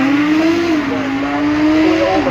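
A top-model Porsche GT3 supercar climbs the Goodwood Festival of Speed hill, its engine loud and close with a sustained high wail that rises and dips slightly through a gear change, with crowd noise beneath.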